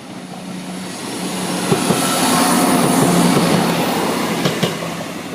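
A Class 175 diesel train passes the Blakedown level crossing at night. Its engine roar swells loudly, peaks mid-pass, then fades, with steady rail noise and a few sharp clanks.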